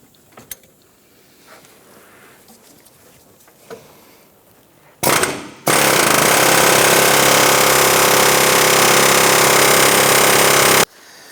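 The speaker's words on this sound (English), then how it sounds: "I'm going to use my air hammer to try and break that free" A loud, continuous air hammer runs for several seconds after some quiet shop clatter, working a seized bolt on a Jeep Wrangler engine mount, a harsh rapid rattle close by that stops abruptly.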